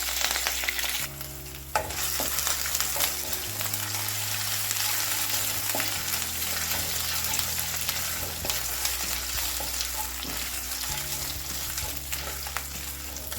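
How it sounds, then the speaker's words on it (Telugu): Ginger and curry leaves fry in a pan with a steady, loud sizzle and hiss that runs throughout, along with occasional stirring scrapes and a low hum underneath. "వేసి ఫ్రై చేస్తాం."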